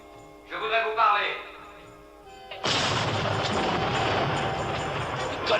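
Sudden heavy roar of sustained gunfire from a tank erupts after a voice calls out, a dense, loud barrage that continues without pause to the end.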